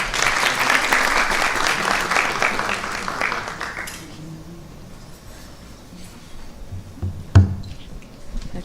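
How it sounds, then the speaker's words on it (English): Applause from an audience at a Sunday feast program, loud and dense for about four seconds, then fading into a quieter room with scattered sounds and one sharp knock near the end. "Please give a big round of applause."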